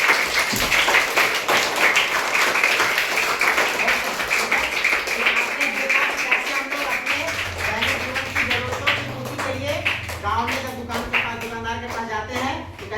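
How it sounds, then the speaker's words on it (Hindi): Classroom audience applause rings out steadily, dense clapping that fades and thins toward the end as a voice begins speaking over it. "जोरदार ताली आप लोग बजा दी जाती है।"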